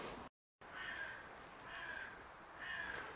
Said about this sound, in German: Der Rabe.